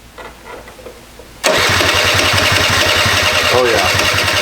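A Honda Elite scooter engine with the airbox off sputters quietly at first, then catches and fires up loud into a steady, buzzing idle with a rapid pulsing rhythm. A voice speaks over it.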